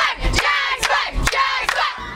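More than 200 students, parents and faculty cheer and shout at a high school volleyball state semifinal in Kissimmee, a loud crowd roaring in several surging waves.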